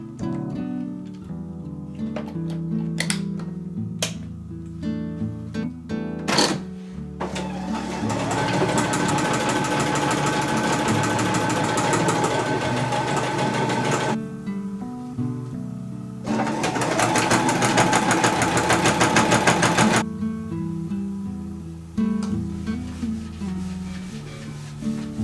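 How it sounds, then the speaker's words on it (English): A sewing machine stitches dress fabric in long steady runs, whirring loudly up close, with shorter bursts and pauses between, clicks and handling thumps early on, and no talk. "Now it's time to get to sewing"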